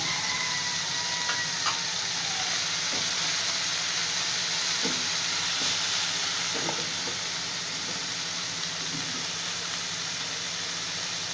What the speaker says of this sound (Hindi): और अब इसके अंदर आपने कटी हुई सब्ज़ मिर्चें डाल दें